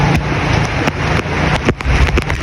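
Strong typhoon wind gusts roar steadily through an outdoor street in Bicol, a dense, loud rushing noise with rain-like hiss and buffeting against the microphone, broken by sharp cracks and thumps throughout.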